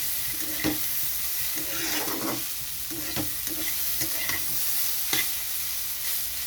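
Potato and papaya frying in a pan with little oil, a steady close sizzle broken by repeated scraping stirs of a spatula at irregular intervals, with no talking.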